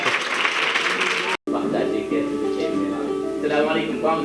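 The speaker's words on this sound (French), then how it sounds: "Applaudissez-la, s'il vous plaît." Audience applause at a literature prize ceremony during a festival in Ziguinchor, a burst of dense clapping that cuts abruptly, followed by talking and crowd noise.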